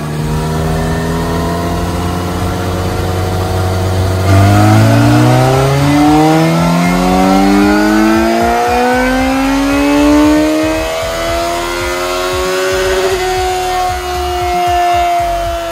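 A remapped Yamaha XJ6 motorcycle engine revs hard on a test run, climbing in pitch through repeated gear changes, loud and close, with no talking over it.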